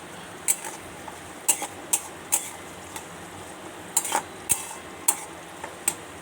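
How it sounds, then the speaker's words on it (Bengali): Semolina upma with onions being stirred in a pan, a spoon tapping and scraping the metal in sharp irregular ticks and clinks about once a second, fairly close, over a faint steady background hiss. "আবার নাড়তে থাকবো।"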